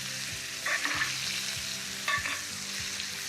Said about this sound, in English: I like to kind of let some of it melt on top of the steak while I am butter basting.